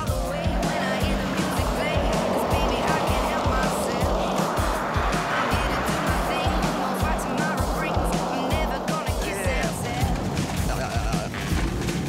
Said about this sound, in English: we're just going to have to go and warm up the tyres a bit first.